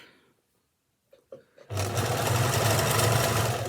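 A sewing machine stitches along a fabric scrunchie, starting after a few soft handling taps and running as a loud, steady, close whirr to the end.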